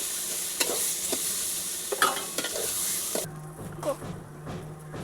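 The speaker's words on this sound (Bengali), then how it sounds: "দিয়ে এটাকে এবার আমি নাড়াচাড়া করে ভাজা ভাজা করবো একটু।" Yardlong beans with salt and turmeric stir-fried in a pan: a steady close sizzle with scraping spatula strokes at irregular intervals, and a lower hiss taking over near the end.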